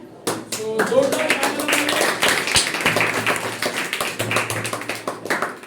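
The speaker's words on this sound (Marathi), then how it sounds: "सो जोरदार टाळ्या आपल्या शाळेचं कौतुक आहे" A group claps and applauds to honour school students on their exam success, a steady run of quick hand claps mixed with a voice speaking over it.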